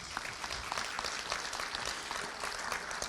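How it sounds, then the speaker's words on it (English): Applause from an audience at a charity event's welcoming remarks, a steady, fairly faint and distant patter of many hands clapping without a break. "you can give that a big round of applause"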